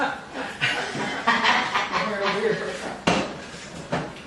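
Utensil scraping and clattering against a pan while chocolate and egg residue is cleaned out, sharp metallic knocks recurring amid chuckling and talk nearby.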